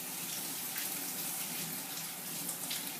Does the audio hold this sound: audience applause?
no